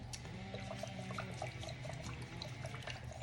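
Water poured into a batch of ceramic glaze makes a soft, faint liquid trickle and splash over a low steady background hum.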